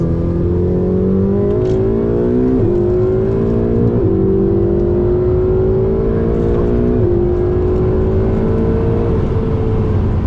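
A Ferrari engine drones steadily and close at a track in Miami, its pitch rising and falling repeatedly as the car accelerates, shifts and lifts through corners, with no talking.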